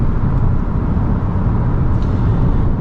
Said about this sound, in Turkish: Gördüğünüz gibi sıfır yüz hızlanmamız da bu şekilde.